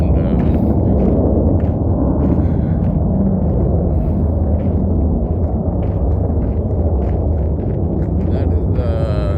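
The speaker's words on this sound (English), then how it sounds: "that is the sound of a jet blast of Phantom" Jet blast from a Phantom fighter jet on the flight path near an airbase roars as a loud, continuous, broadband rumble that holds steady throughout.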